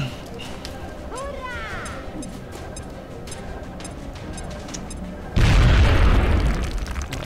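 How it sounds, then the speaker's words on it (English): A grenade goes off in the turn-based strategy game XCOM: Enemy Within with the Long War mod, one loud sudden boom late in the clip that rumbles and fades. Game sounds and a talking voice come before it. "Throw the grenade."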